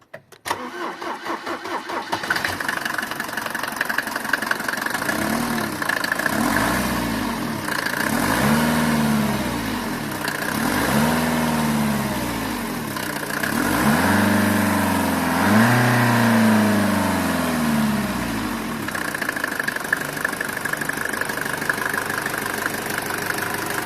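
A Mercedes 190 W201 diesel engine cranks and fires, then settles into a clattering idle broken by several rising and falling revs, loud and close with no voices.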